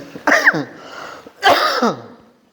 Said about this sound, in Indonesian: Kok jadi batuk ya?